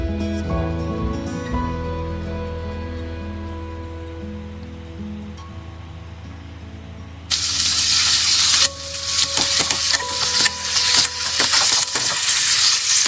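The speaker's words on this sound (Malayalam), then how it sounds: "ഇനി ഫ്രൈ ചെയ്യാനുള്ള ബാക്കി ചിക്കൻ കൂടി നമുക്ക് ഫ്രൈ ചെയ്തെടുക്കാം." Chicken pieces fried in hot oil, first a low steady crackle under background music, then a loud dense sizzle and hiss as more chicken drops into the pan, with sharp pops throughout.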